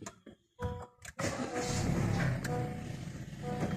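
A 2018–2022 Honda Accord with a 2.2 engine starting: a few short clicks and a brief crank, then the engine catches and settles into a steady, fairly loud idle, heard up close with no talking.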